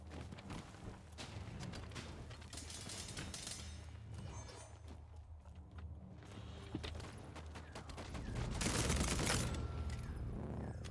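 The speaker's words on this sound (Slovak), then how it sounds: "To po mne strieľa týpek." Gunfire in the video game Vampire: The Masquerade – Bloodhunt, with scattered bursts of shots and mechanical clatter at a fairly faint level, and a louder burst of rapid fire near the end.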